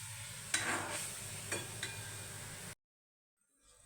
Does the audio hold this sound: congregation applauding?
no